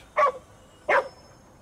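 Two sharp dog barks spaced under a second apart in GhostWire: Tokyo, close and loud over a quiet background, with no talk.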